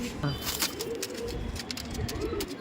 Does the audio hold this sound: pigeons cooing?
yes